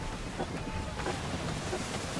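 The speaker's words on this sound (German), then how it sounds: "Böige Winde sind schwer zu meistern" Gusty wind while sailing in Assassin's Creed 3, a steady broadband roar of wind and sea noise with faint creaks, continuous and close, no talk over it.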